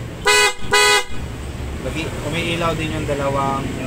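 Honda ADV160 scooter horn gives two short loud honks close by, followed by someone talking over a faint background hum.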